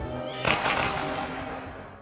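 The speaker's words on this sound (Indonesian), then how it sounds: "Terdengar suara tembakan yang mana anak buahnya sudah menghabisi Lai anaknya." A single sharp gunshot rings out in a Transporter movie scene, a sudden crack followed by a fading, reverberant tail over faint background sound.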